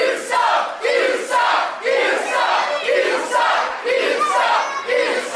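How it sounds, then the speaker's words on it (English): A wrestling arena crowd at a Judas vs Corey Hollis match roars in sustained, rhythmic chanting waves, loud and dense, rising and falling steadily throughout with no distinct voice standing out. "The crowd's on point tonight."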